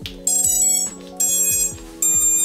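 Repeated electronic startup beep tones from an FPV drone's ESCs in a steady pattern, loud and close, sounding in short bursts with brief pauses between them.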